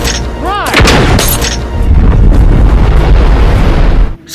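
A loud gunshot in a science-fiction film scene rings out as a sharp booming burst with a rising whoosh, then heavy, continuous rumbling blast noise that cuts off abruptly.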